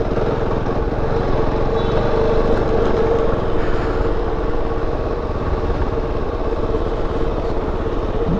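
A KOVE 450 Rally motorcycle rides an enduro trail, its engine a steady, close buzzing drone with slight throttle fluctuations, continuous throughout without speech.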